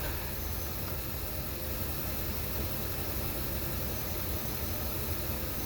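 A GM 8.1 Vortec truck engine runs steadily at idle, a constant broadband rumble with no talk.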